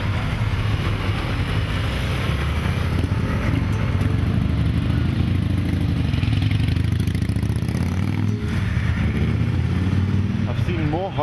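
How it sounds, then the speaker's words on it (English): Harley-Davidson motorcycles ride through the streets of Rome, their engines a steady, continuous rumble mixed into loud traffic noise for the whole stretch. "I've seen more Harleys in France and Italy than I ever thought I would."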